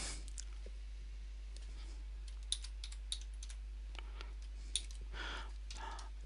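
Fingers type on a computer keyboard, a quiet close run of light key clicks with a few sharper taps, alone over a low steady hum.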